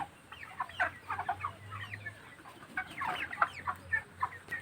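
A flock of about 500 broiler chickens clucking and chattering together, overlapping soft calls with a low hum in the background.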